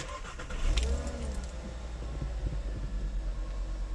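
A Volkswagen Jetta 2.5 engine cranks and catches after a knock sensor replacement, settling into a steady low rumbling idle close by, with a brief jingle of keys as it fires.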